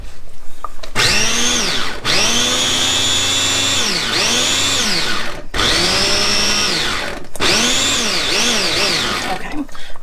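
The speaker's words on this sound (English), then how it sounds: "I don't want to over blend these" A blender whirs through a plant-based meatball mixture in a series of loud pulses, its motor whining up and dropping off between bursts, each run lasting a second or two.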